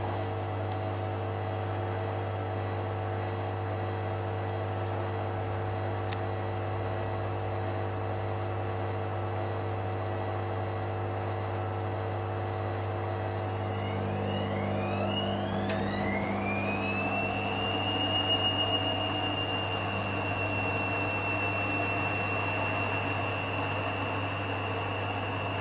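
A Hoover Dynamic Next DXOC58AC3/1-80 washing machine, loaded with darks and a bathmat on a rapid 30-minute 40-degree cycle, spins at 400 rpm: a steady electrical hum, then a motor whine that climbs in pitch midway and settles into a sustained tone.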